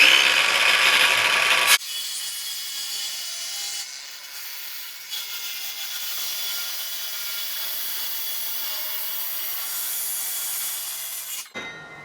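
A battery-operated DeWalt power tool works glued wooden boards, a loud burst at the start giving way to a quieter sustained grinding and rubbing that cuts off near the end.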